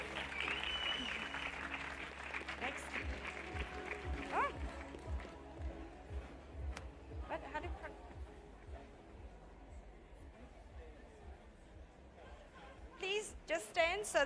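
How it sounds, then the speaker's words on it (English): Applause for a third-prize winner at an AI skills hackathon award ceremony, steady clapping from a crowd running under chatter and speech, fading slightly before a brief louder burst near the end. "Hand of applause, please."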